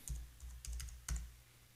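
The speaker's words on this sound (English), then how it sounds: "And I'm going to type in Billy." Several short bursts of computer keyboard typing in a music production session, soft clustered key clicks in quick groups over a low hum, with no speech.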